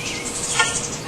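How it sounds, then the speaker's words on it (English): Bees buzzing around a tractor battery on a 1950 Farmall C, a close, steady insect drone that swells briefly at the end. "Hopefully there's no bees in it. There is now."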